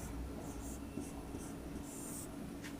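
Faint scratching strokes of a pen forming Urdu letters on paper, short separate bursts over a low steady background hum, no talking.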